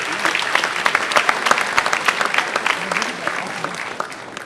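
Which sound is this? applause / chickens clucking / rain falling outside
applause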